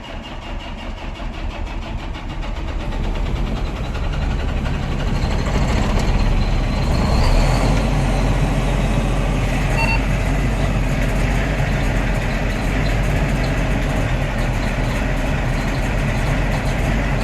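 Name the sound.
engine being cranked and started on cold farm equipment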